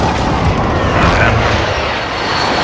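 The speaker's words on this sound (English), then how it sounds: "airstrike inbound" A jet aircraft roars loudly overhead during a friendly precision airstrike in the Warzone video game on Rebirth Island, a steady, broad engine rush filling the whole moment with voices faintly mixed in.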